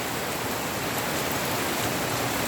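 Steady morning rain pours down as a dense, unbroken hiss, fairly loud and even throughout, with no voices.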